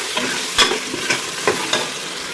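Garam masala and red chilli powder roast in a pan, sizzling steadily while a spoon scrapes and knocks against the pan in several quick strokes, heard up close with no talking.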